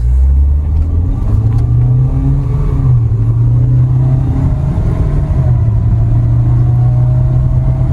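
A Toyota Corolla Altis and a Hyundai Verna accelerate hard side by side in a drag race, a loud, close engine roar with rising and shifting pitch as the cars pull through the gears, continuous and without talk.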